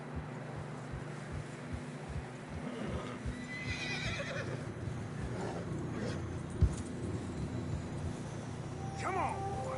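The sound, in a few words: horses neighing and hooves in snow, Red Dead Redemption 2 video game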